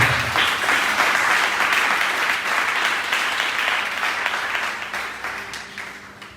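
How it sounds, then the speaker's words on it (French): A church congregation applauds and cheers loudly in a steady, sustained wave that fills the space and slowly fades toward the end, with no speech over it. "Est-ce que tu peux acclamer fortement le Seigneur?"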